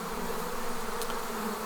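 Honeybee swarm buzzing steadily around a queenless hive in September, a dense continuous drone of many wings, fairly close and unbroken throughout.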